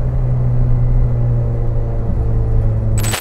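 A Honda Jazz GE8 fitted with a K-series engine drives along, giving a steady, loud low engine drone and road rumble inside the cabin that holds even throughout, with no talk.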